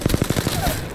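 Rapid automatic weapon fire in an Apex Legends firefight, a quick burst of about six sharp shots in a row, fairly close and loud, then fading into game ambience.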